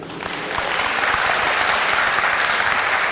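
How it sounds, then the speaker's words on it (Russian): Audience applause at a live performance, a brief swell that rises quickly within the first half second and then holds as a dense, even burst of many hands clapping. "Аплодисменты."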